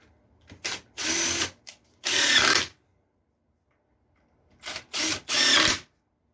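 A power drill drives 1 1/4 inch screws into a wooden wishing-well planter, two sets of short revving bursts with a rising whir separated by a quiet gap, close and fairly loud.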